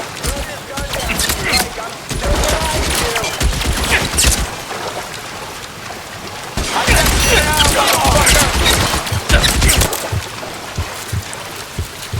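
Gunfire in L.A. Noire, dense bursts of shots and crashes in two loud stretches, mixed with shouting voices and game noise.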